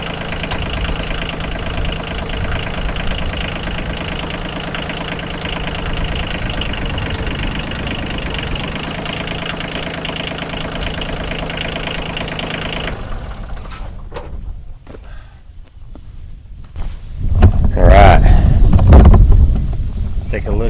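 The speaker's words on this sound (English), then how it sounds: "I'm going to pull it maybe 2-3 more inches tight, stop the tractor, and then attach it to the post." Tractor engine idling steadily while fence wire is stretched taut, a constant low rumble for around thirteen seconds before it drops away, followed by gusty wind noise and handling sounds outdoors.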